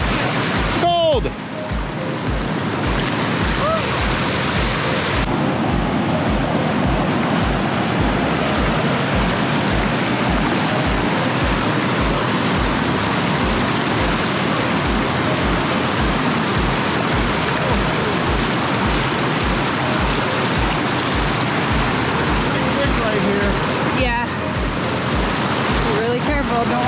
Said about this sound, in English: Don't want to end up being swept down that waterfall.